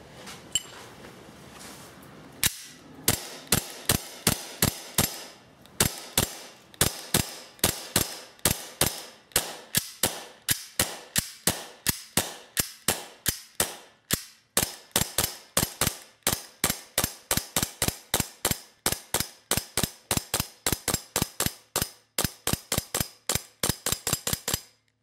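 A Tokyo Marui Glock 17 airsoft gas pistol is fired through a full magazine outdoors in cold, snowy weather, giving a long run of sharp, loud pops and clacks, first in scattered bursts and then in quick steady succession before stopping.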